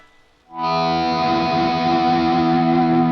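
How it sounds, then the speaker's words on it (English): A distorted electric guitar chord swells in from near silence and sustains thick and steady, washed in delay and reverb, in a song part. "bring that volume down, let the delay and the reverb carry over, swell back up"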